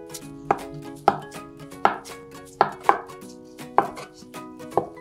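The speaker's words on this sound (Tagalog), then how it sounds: "Hiwain natin yung isang latang meatloaf into cubes." A knife chops canned meatloaf into cubes on a board, with steady, evenly spaced, crisp strikes close by and no talking.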